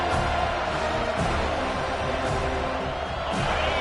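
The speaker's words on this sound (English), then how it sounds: "Man, this crowd really affecting the football." A home crowd at a college football game at Florida State roars loudly and continuously, a dense, unbroken wall of stadium noise with a few brief surges.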